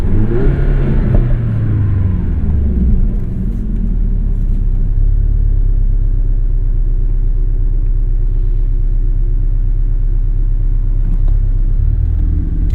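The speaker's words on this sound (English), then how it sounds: "So the idle still has that Boxster 4 rumble." Idle of a 2017 Porsche 718 Boxster S PDK with an MTM-tuned four-cylinder boxer engine, a loud, steady, deep burbling rumble that settles after a brief rev at the start, close and continuous with no talking.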